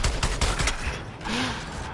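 A legendary shotgun fires in Suicide Squad: Kill the Justice League, with a quick burst of close, sharp blasts in the first half, followed by a softer rumbling tail.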